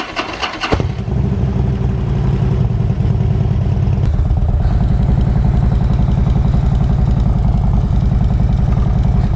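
A custom cholo bagger motorcycle engine catches after a brief clattering start, then settles into a loud, steady, throbbing idle close by, with a small shift in tone about four seconds in.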